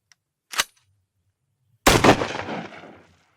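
Two sharp reports from a Nova Vista Cobra PCP air pistol: a brief faint crack, then a louder, fuller shot with a short decaying tail, in a quiet setting.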